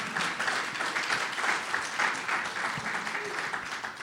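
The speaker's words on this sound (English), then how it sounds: "You can give her another round of applause if you want." Steady applause from a live podcast audience in Denver, a continuous fairly soft clatter of many hands clapping at an even level for about four seconds.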